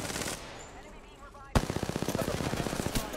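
Rapid automatic gunfire in the video game Apex Legends, a burst of close shots starting abruptly and repeating in a fast, even rhythm, preceded by quieter game ambience with faint voices.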